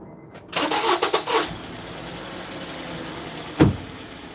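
A 2010 Honda Accord with a 2.4L engine cranks briefly and catches, settling into a steady idle, followed by a single short knock or clunk near the end; close and moderately loud, with no talking.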